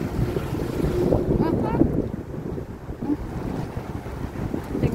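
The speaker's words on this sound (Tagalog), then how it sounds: "ang lakas ng hangin" Strong gusting wind buffets the microphone outdoors amid dust and blowing litter, a dense continuous roar with a brief voice speaking over it partway through.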